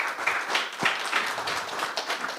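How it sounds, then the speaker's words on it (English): Audience at the SCaLE 22x tech conference applauding the AV team, a steady dense round of clapping from a crowded room, fairly loud and continuous for a couple of seconds with no talk over it. "Can you give AV a round of applause?"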